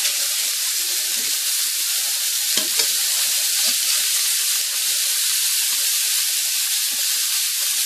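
Lean, high-quality hamburger patties sear in a hot pan with a loud, continuous close-up sizzle and hiss, broken by a brief crackle or scrape partway through.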